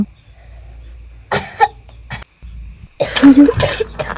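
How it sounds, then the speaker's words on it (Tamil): A few sharp, close coughs come in separate bursts, with brief throat sounds between them in a quiet room. "அச்சோ, என்னம்மா இருமல் வந்துருச்சா?"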